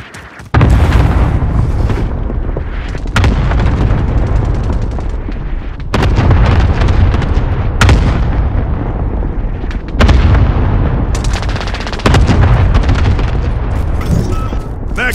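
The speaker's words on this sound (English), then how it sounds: "Friendly cluster strike inbound." Cluster strike explosions in Call of Duty Modern Warfare, a string of loud, heavy blasts landing in sequence with sharp onsets every couple of seconds, each rumbling into the next.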